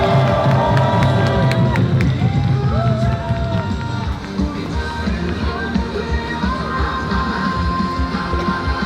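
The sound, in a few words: audience applauding and cheering to welcome local residents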